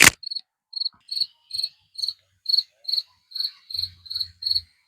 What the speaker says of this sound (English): Dude, there's like a cricket over here.